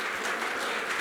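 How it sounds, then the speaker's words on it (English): Audience applause at an American Muslim community leadership event, a brief, steady, dense wash of many hands clapping that holds at an even level without talk. "Can I get a round of applause"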